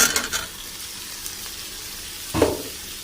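Potatoes and chopped tomato fry in a pan for a cabbage curry, a steady soft sizzle broken by scraping stirring strokes near the beginning and a louder stir near the end.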